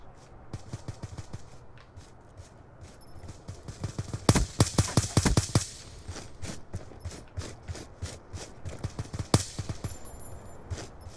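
A semi-automatic gun firing in the video game Black Ops II, evenly spaced single shots in a steady rhythm, clustering into a loud rapid volley midway, then more isolated shots among other distant gunfire.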